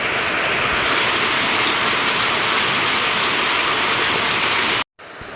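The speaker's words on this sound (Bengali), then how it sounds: "এরকম বৃষ্টি তো সবারই ভালো লাগে" Heavy rain pours down in a steady, dense hiss, loud and unbroken for several seconds before a sudden brief cut, with no voices over it.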